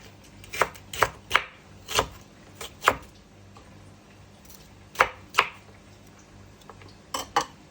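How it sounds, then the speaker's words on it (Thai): A knife chops on a cutting board in irregular bursts of sharp, close knocks, with brief pauses between groups and no talking. "อันนี้จะหั่นเป็นเล็กๆ"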